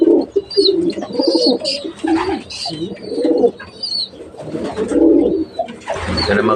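A mating pair of pigeons coo repeatedly at close range, throaty rolling calls in uneven bursts, with a few faint chirps and fluttering in between.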